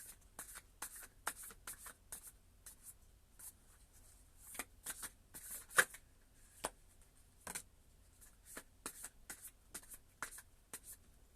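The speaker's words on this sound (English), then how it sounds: "let me shuffle again" Tarot cards being shuffled by hand, a series of crisp riffling bursts and soft slaps in irregular rhythm, close and quiet with pauses between.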